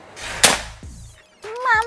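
One crisp shot from a Predator Bocap Black Army Phantom full-CNC PCP air rifle snaps early on. A voice speaks just after it.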